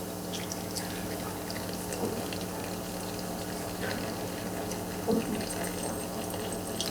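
Hot water poured steadily over ground coffee in a Hario V60 dripper, a continuous close trickling and splashing stream with no talk.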